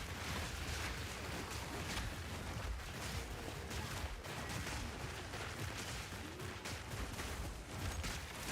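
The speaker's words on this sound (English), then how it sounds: "Explosions are putting in work whenever they go off." Dense, continuous crackling bursts of explosions from Path of Exile 2 gameplay, a loud uninterrupted wash of blasts and impacts with no speech over it.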